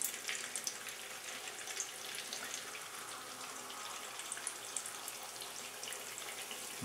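A corn tortilla taco with filling frying in hot oil in a pan, a continuous bright, crackling sizzle heard close and steady throughout with scattered pops and no talking.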